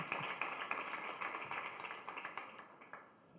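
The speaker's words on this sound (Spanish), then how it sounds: "un gran aplauso para estos dos chicos" An audience at a contemporary Spanish painting talk applauds two artists with steady, fairly faint clapping, individual claps audible in the texture, tapering off toward the end.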